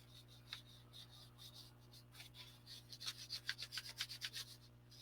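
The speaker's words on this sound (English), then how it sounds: "You just basically cover the whole thing with it." Red glazing putty is spread over a scale model, a faint close scraping and rubbing that grows into a steady series of quick rhythmic strokes against a low steady hum, with no talking.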